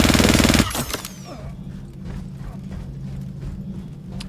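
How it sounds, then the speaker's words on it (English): Rapid ballistic gunfire in the video game Star Citizen rattles out as a loud, dense automatic burst for about half a second, then cuts off into quieter mechanical ambience and faint rhythmic clatter. "You have, 150 bullets at your disposal. You can fire, you can shoot these non-stop."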